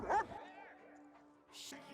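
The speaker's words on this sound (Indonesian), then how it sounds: "Ia pun mendengar suara gonggongan anjingnya." A dog near people hiding on an isolated lake island gives one short, sharp bark at the start, then a voice talks steadily over a quiet background.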